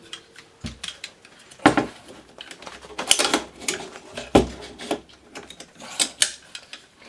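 A Swiss-made SWT AR-15 magazine is pushed into the rifle and locks in, giving a series of sharp, close metallic clacks and clicks spread unevenly over several seconds, with no talk.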